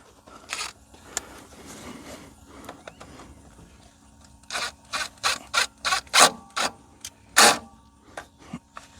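Impact gun with a socket that is not deep well removing bolts on a skid loader track outdoors, quiet rubbing and clanking first, then a rapid series of short loud bursts from the gun close by.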